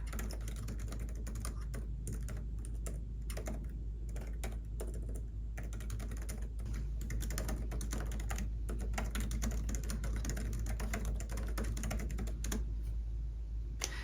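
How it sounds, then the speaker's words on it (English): Steady typing on an Apple Magic Keyboard Folio for iPad 10th generation, rapid light key clicks in uneven bursts, close and continuous with no voices. "I'm just going to keep typing here."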